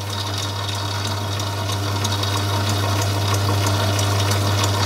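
A Myford lathe takes light spring cuts on a tiny BA thread set screw, giving a steady motor hum and a low tonal drone with faint rhythmic ticking from the cut. The sound stays close and even throughout, with no talk.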